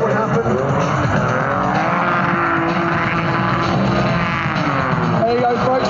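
Terry Grant's stunt car at Santa Pod in 2011 drives continuously sideways, engine roaring loud and steady with sustained tyre skid, under a commentator's voice over the public address.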